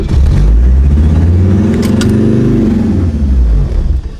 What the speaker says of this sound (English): the throttle is like stuck pinned.